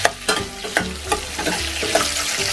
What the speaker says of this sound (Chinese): 葱段的部分呢，我们先放入一半，让它炒出香气